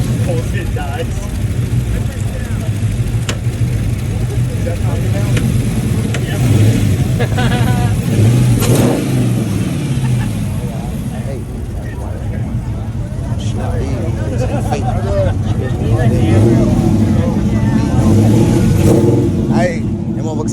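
A modified car engine revs and idles roughly at an Atlanta car meet, with people talking loudly nearby throughout and other crowd noise around it.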